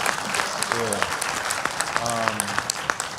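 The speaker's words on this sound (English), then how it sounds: "let's start by giving our guests on stage a round of applause" An audience at a youth community talk event claps for the guests on stage. The sustained applause is fairly loud and runs under a voice speaking over it.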